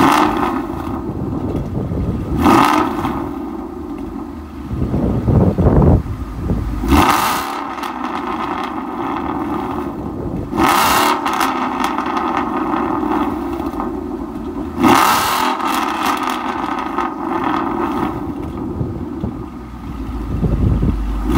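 A Ford Mustang GT with catalytic converter deletes and a Corsa Xtreme exhaust, heard from outside, revs repeatedly in sharp bursts climbing toward redline and falling back to a rumbling idle between throttle blips, loud and close.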